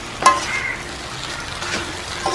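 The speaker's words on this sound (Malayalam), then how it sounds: "നമ്മൾ കയ്യിൽ മാറ്റി നമ്മൾ ഇളക്കി മറിക്കുന്നു" Vegetable noodles are stirred and tossed in a pan under a steady moderate sizzle, with a couple of light scraping clicks of a utensil.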